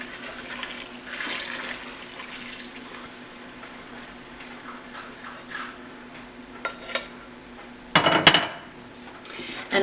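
Hot oil and sugar poured into oats and stirred for homemade granola: faint scraping and stirring in a bowl, growing into a louder burst of wet mixing and clattering utensil noise near the end.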